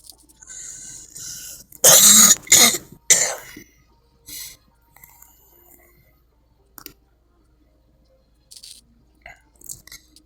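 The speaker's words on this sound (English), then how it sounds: "pardon the cough" A burst of harsh coughing, several loud coughs in quick succession close to the microphone, followed by quieter clicks and faint throat sounds.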